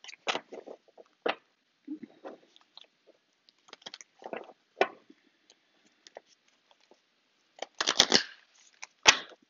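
Playing cards being handled, with scattered soft snaps, slides and riffles close by, some brief louder flurries near the end, in an otherwise quiet room with no talking.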